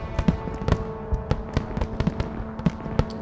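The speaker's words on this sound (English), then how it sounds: "Fireworks." Fireworks bursting over Paris in a World War II video game, a string of sharp pops and cracks at an uneven rhythm, some near and some distant, over a low background hum.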